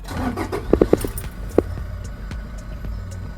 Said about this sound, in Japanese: で、もう一回エンジンかけると。